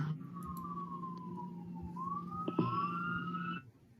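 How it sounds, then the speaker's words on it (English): A siren passing at a distance, its tone gliding slowly down, then sweeping back up into a rising wail, with a sharp click partway through, over a low steady hum. "the siren has to be going by the zoo"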